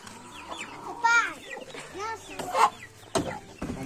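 Helmeted guinea fowl with newly hatched chicks make clucking calls and chirps in short bursts, close by, mixed with faint background sounds.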